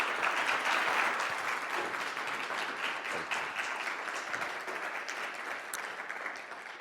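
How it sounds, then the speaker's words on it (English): Applause from a conference audience at a day-two opening, a broad wash of many hands clapping at a distance, holding steady and thinning slightly toward the end. "So a big round of applause for PJ."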